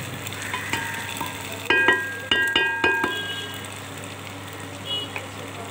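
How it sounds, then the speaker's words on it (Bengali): Tomato posto (poppy seed paste with tomato) cooking in mustard oil in a wok, heard as a low steady sizzle with a cluster of sharp scraping stir strokes and clinks near the middle, close and without talk. "এটা কড়াইয়ের মধ্যে সর্ষের তেল দিয়ে এটা ছেড়ে দেবেন। ভালোভাবে ভাজা হয়ে গেলে"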